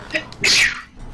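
A single sharp sneeze bursts out close by in a quiet room, with only faint room noise around it, during a casual Final Fantasy XI gaming chat.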